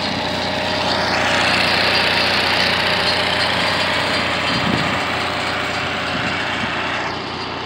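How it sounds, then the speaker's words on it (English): A generator on a 1988 Fleetwood Southwind RV motorhome, built on a John Deere chassis with a Ford 460 engine, runs in a loud, steady drone close by, with no voices. "I got the generator running."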